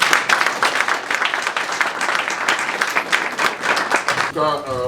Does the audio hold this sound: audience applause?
yes